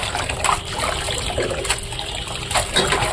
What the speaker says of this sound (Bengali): ভালো করে শাকটাকে ধুতে হবে। তো শাকটা ধুয়ে নিই